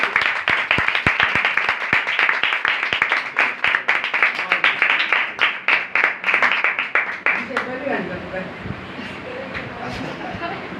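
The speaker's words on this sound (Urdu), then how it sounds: "آپ سب اپنے لیے ایک بار زوردار تالیاں بجائیں" A church congregation claps loudly in rhythmic, sharp bursts for most of the stretch, then the clapping thins out and fades into a murmur of voices and scattered claps.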